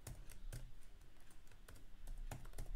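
Keystrokes on a computer keyboard while entering Python code, a steady run of close, crisp clicks with a few louder presses, heard alone against a quiet room.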